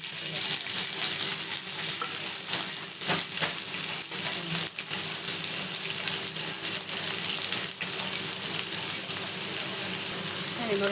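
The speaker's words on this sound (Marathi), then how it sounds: "तव्यामध्ये बघा आता कारले सगळे आपण टाकले." Cut bitter gourd frying on a hot iron griddle, a steady crackling sizzle with occasional light knocks and pops, close up and without speech.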